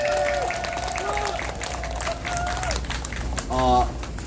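A crowd at a public speaking event applauds, a sustained clatter of clapping heard beneath a voice and tonal sounds, swelling toward the end.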